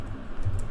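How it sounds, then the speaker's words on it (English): Brief burst of typing on a computer keyboard, a few soft keystrokes close by with no voices. "So I'm gonna type in"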